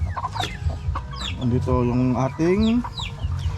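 A gold-colored hen on a small farm clucks in a short run of rising, melodic calls, close and clear, with someone talking over and around it.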